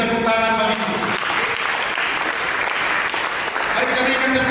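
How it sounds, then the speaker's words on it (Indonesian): Applause from a church congregation during an Indonesian sermon, a steady, dense wash of clapping that fills the room, with a voice speaking at the start and again near the end. "Berikan tepuk tangan bagi itu."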